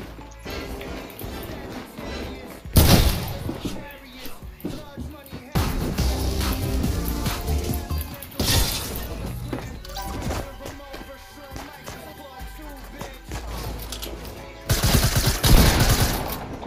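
Gunfire in the battle royale game Fortnite, including shotguns: repeated loud blasts and bursts of rapid fire in several separate clusters, interspersed with crashing impacts and clattering game effects, with a voice speaking at times in between.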